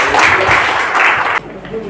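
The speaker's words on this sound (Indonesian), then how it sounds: "Mari kita berikan tepuk tangan buat Tuhan." Congregation applauding during a church worship session, a short burst of loud clapping that cuts off abruptly, leaving quieter room sound.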